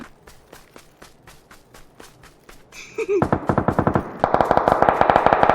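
Video game gunfire: rapid, evenly spaced shots rattling off in quick bursts, starting lighter and then growing louder and denser, with a brief voice or effect in the middle.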